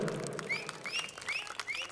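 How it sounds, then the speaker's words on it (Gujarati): Faint, distant applause from an audience at a wedding sangeet night, scattered claps with a few shrill rising whistles cutting through at steady intervals. "એ લોકો સ્ટેજ પર જાય ત્યાં સુધી તમારી તાળીઓ ચાલવી જોઈએ."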